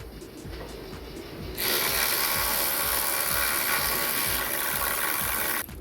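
A plastic screw is ratcheted back in near a rear ABS sensor on a 2007 BMW 3 Series. Close, rapid clicking of a ratchet gives way to a louder continuous whirring grind before cutting off.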